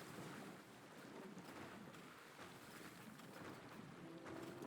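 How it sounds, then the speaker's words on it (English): Ships at sea during a naval battle in Age of Empires II, heard as a steady, soft wash of water and wind with creaking boat ambience and no talk. "Why did I hear the sound of ships? Oh, there's naval warfare going on."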